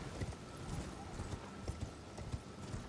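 Horse hooves gallop in Elden Ring as quick, rhythmic clip-clop beats, fairly faint and steady, with a voice talking over them.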